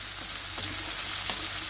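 Potato and tomato sautéing in a hot pan, a steady close sizzle with a few soft stirring scrapes and clicks breaking through, no voices.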